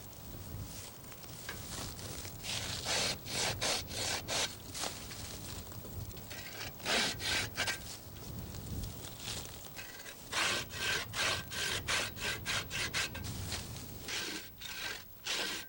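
A hand saw cuts through branches while pruning a young black walnut sapling, with rhythmic back-and-forth strokes in close bursts separated by brief pauses.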